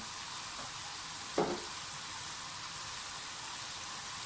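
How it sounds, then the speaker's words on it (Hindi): Vegetables fry in a pan for chicken vegetable spaghetti, a steady, soft sizzle broken once by a brief utensil clink, with no talking. "वेजिटेबल्स हमारी हो गई हैं फ्राई"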